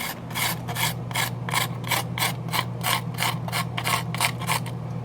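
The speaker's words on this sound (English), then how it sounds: "so I'm going to scrape off some of that, just to scrape on bits onto here" Rhythmic rasping scrapes, about a dozen evenly paced strokes of a hard edge dragged across something frozen in a kitchen, moderately loud and close, over a low steady hum.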